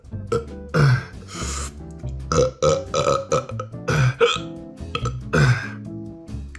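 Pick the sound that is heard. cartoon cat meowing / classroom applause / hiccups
hiccups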